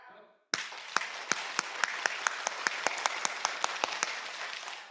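A church congregation at a Sunday service claps together in a steady, rhythmic beat of about three claps per second. It starts abruptly after a brief quiet moment and continues evenly, with voices underneath.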